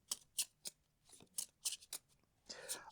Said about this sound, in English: And I'm going to shuffle up again.